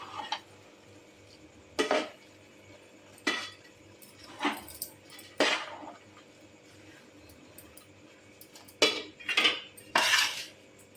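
Flour mixture for fenugreek (methi) ladoos being stirred in a metal pot, with a series of sharp spoon scrapes and clinks in irregular bursts over a quiet background.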